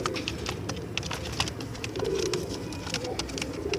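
Pigeons coo in a crowded bird market in Multan, throaty repeated calls close by over a busy background din with no clear speech.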